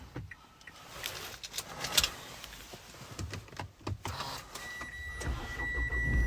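A 2016 Mitsubishi L200 2.4 DI-D 178 Barbarian automatic pickup with 42k miles starts up: close clicks and rattles of keys and controls, then the diesel engine fires straight away and settles into a steady idle.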